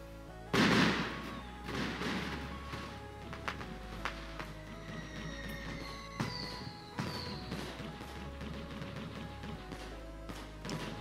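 Fireworks go off after the fuse is lit, starting with one big close blast, then a steady run of crackling pops and bangs that follow one another for several seconds.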